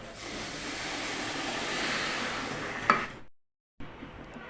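Half a glass of water poured into a pan of sugar makes a rushing, splashing wash for about three seconds, ending with a small clink. A short silence follows, then quieter pan sounds resume.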